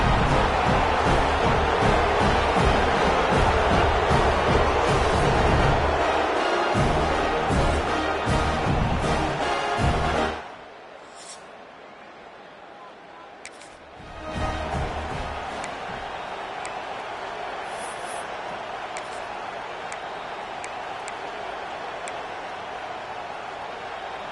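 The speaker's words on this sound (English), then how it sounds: "It's early, but this crowd is fired up. Listen to this noise here." Loud, dense stadium crowd roar in a college football video game, dropping away sharply midway, then returning at a lower, steady rumble.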